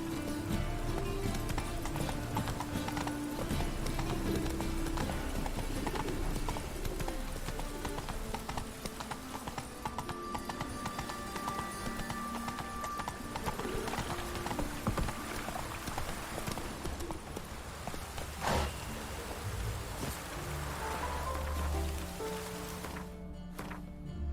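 Rhythmic hoof clip-clop of a horse galloping in The Witcher 3: Wild Hunt, loud and close, with game ambience and faint rain-like noise underneath throughout.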